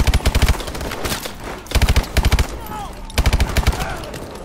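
Submachine gun fire in Call of Duty: Advanced Warfare, loud rapid bursts of automatic shots repeating in short strings with brief gaps between them.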